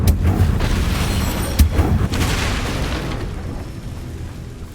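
A Confringo fire spell cast in Hogwarts Legacy on PS5 bursts into a loud, close booming blast with a sharp pop near the middle, fading into a rumbling tail.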